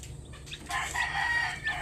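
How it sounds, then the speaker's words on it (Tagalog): Newly hatched chicks in an incubator give a brief burst of high, thin peeping chirps up close over a low background hum. "yung mga napisang sisiw tataas ko lang ito"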